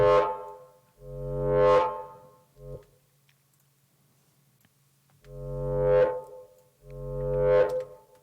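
A Serum synth patch run through distortion and multiband processing plays four loud, harmonically rich sustained notes in two pairs, with a quiet gap between the pairs and no voices.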